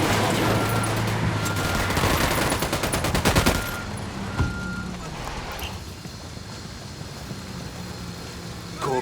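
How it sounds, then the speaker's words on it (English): Gunfire in the Ghost Recon Wildlands video game: a dense burst of rapid automatic shots up front, then a few isolated reports over a steady background bed of game ambience, fairly loud and close. "I'm opening fire on these shitheads."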